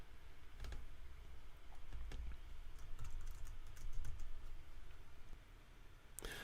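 Computer keyboard typing as a website title is entered during WordPress setup, a quick run of close, crisp key clicks in an uneven rhythm with no one talking.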